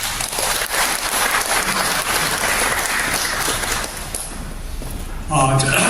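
A congregation at a memorial service for General Paik Sun-yup applauds to welcome the vice minister of national defense, a dense, sustained wash of clapping from a large crowd that tapers off before a voice begins near the end.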